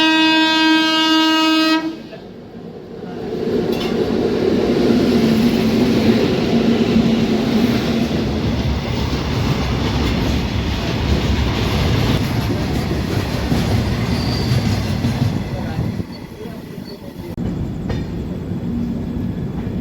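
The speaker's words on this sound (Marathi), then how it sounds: "गंगाखेड येथे एक मालगाडी क्रॉसिंग झालेली आहे आपल्याला" A freight train crossing at Gangakhed station sounds a loud sustained horn, then thunders past close by with a continuous roar and rhythmic clickety-clack of wagons that carries on for many seconds.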